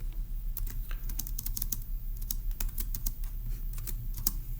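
Someone types notes on a computer keyboard, with quick clicky keystrokes in irregular bursts. The typing is close and moderately quiet over a low steady hum.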